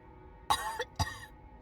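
Two quick, raspy coughs in a row from a video game character, close and fairly soft against a quiet background.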